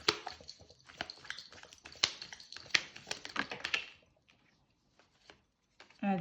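An oracle card deck being shuffled by hand: a dense run of quick, irregular papery taps and clicks for about four seconds, then a few sparse isolated taps in near silence, recorded close.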